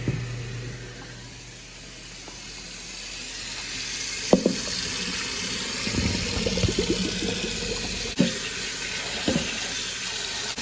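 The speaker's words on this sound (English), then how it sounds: "I'm going to strain them, but we're also going to rinse them in some cold water." Cold water from a tap pours steadily into a sink, with faint clinks and splashes as noodles are rinsed in a metal strainer.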